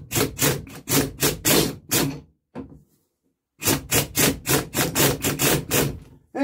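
Repeated heavy blows on a stuck axle of a Barford Atom, a steady rhythm of about a dozen loud, close strikes in two bursts separated by a short pause, with no talking.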